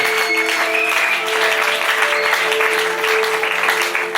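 A church congregation claps and cheers together, a loud, steady wash of applause lasting throughout, with bright sustained tones layered underneath.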